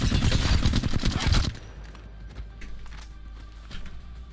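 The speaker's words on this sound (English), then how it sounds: "Just shooting bots." Rapid bursts of gunfire from Apex Legends, fired at practice bots, rattle loudly and densely for about a second and a half before cutting off to quieter game ambience with scattered faint clicks and steps.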